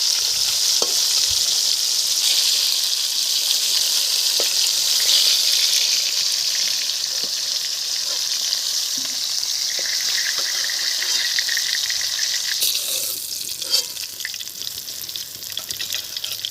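Pieces of katla fish fry in hot oil with a loud, continuous sizzle and crackle, broken by occasional clicks and a brief burst of stirring toward the end.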